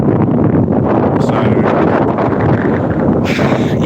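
Strong wind roars and buffets the microphone continuously during a windy, rainy morning walk outdoors, a steady loud rush with gusty surges and no speech.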